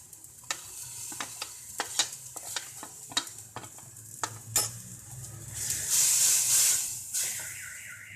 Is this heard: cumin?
yes